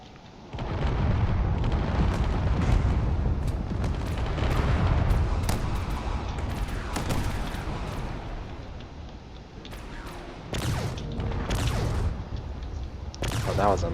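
A barrage of missiles slamming into a cruiser in a space combat game: a steady rumble of repeated explosive impacts and sharp cracks, with a sudden heavy hit late on.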